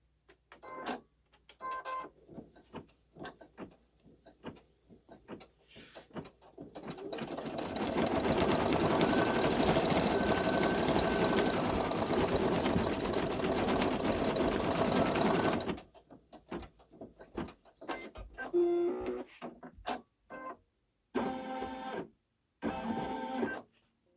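An embroidery machine stitches out a brain design in pale peach glow-in-the-dark thread, running in a loud, rapid, continuous mechanical chatter for several seconds between scattered clicks and handling noises before stopping abruptly.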